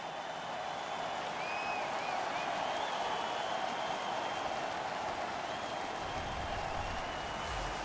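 Home crowd in an NHL 15 video game hockey arena cheering after a fight, a steady wash of roaring applause with faint whistles, filling the whole stretch without commentary.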